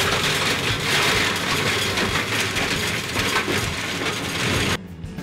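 A Case Quantum 65V orchard tractor drives a Maschio Gaspardo flail mulcher: a loud, dense, continuous grinding roar with churning mechanical clatter, cut off abruptly near the end.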